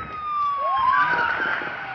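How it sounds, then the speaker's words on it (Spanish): Police patrol car sirens wail with rising and falling tones at moderate distance, steady over street noise in Tamaulipas. "Hoy las patrullas ya se van."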